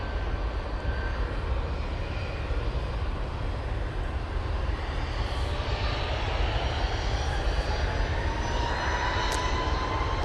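An airliner leaving Manchester Airport for London Heathrow gives a steady, moderately distant jet rumble with a faint rising whine, continuous throughout.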